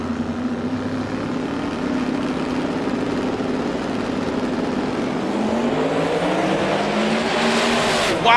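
A drag race Mustang and a 1969 Camaro roar down the strip together, a loud sustained engine drone whose pitch climbs and sweeps as they accelerate, with a crowd-like wash beneath.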